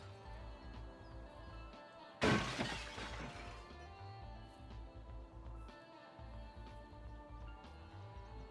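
Glass shattering in Escape from Tarkov, a single sharp crash followed by a brief tinkling decay, standing out over a steady low ambient hum.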